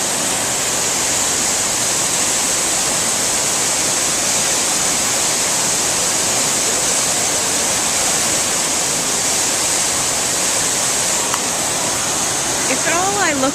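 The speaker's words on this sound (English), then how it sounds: "Up close at the waterfall" Waterfall at a water fountain heard up close, a loud, dense, unbroken roar of rushing water, with a brief voice appearing near the end.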